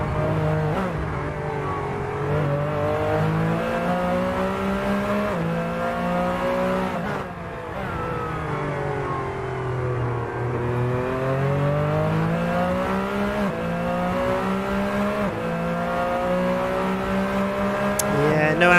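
Race car engines from the video game Pretty Ninja Racing GT2 drone loudly and steadily throughout, revving with rising and falling pitch and dipping briefly midway, while commentary voices talk over the engine noise.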